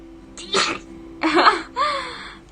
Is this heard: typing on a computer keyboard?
no